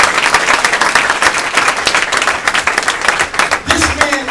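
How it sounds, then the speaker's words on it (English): Audience at a corporate facility training event gives the CEO a round of applause, loud dense clapping with crowd noise that continues unbroken, and voices faintly heard near the end. "Joven Kabazan, give our CEO a round of applause."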